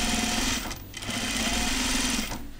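A sewing machine stitches stretch denim for pull-on jeans, a close continuous mechanical whir with a steady hum, briefly slowing twice before running on.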